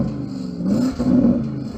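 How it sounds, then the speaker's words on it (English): A Porsche Cayenne Turbo engine, set to its most aggressive drive mode, revs in two rising bursts with a deep, close rumble and no talking. "So I'm going to rev up this Porsche."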